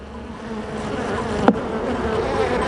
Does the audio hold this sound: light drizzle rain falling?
no